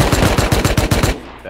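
Automatic gunfire in the video game Rust: a rapid burst of about eight loud, evenly spaced shots that stops abruptly, leaving a brief quieter tail.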